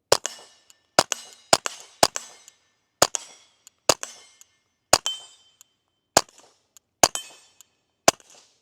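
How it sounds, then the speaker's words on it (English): A Ruger Mark IV 22/45 pistol fires subsonic CCI rounds at steel targets, ten sharp, fairly loud cracks at irregular one-second spacing, each followed by a brief ringing ping of the hit plate. "Let's go ahead and take a few more shots on the steel."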